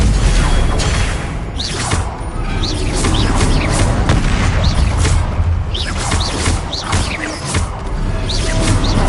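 Hogwarts Legacy combat full of Confringo blasting spells, with repeated booms, crashes and whooshing spell effects layered thickly and loudly throughout, under a continuous busy game mix.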